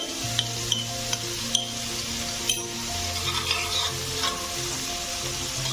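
Onion and five-spice fry in oil with a soft steady sizzle and occasional spoon scrapes, heard alone at low level, with a faint background hum under it.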